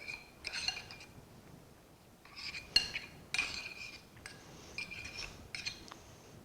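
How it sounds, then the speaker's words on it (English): A spoon stirring homemade taco seasoning of cumin and onion powder in a small dish: several bursts of scraping, clinking rubs, quiet and close, separated by brief pauses. "I'm going to use my lime spoon and just stir this up a bit"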